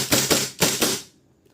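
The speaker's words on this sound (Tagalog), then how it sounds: "WE 1911, firing." WE 1911 gas airsoft pistol firing, several sharp close cracking shots in quick succession with no voices, each crack followed by a short ringing tail before the clip goes quiet.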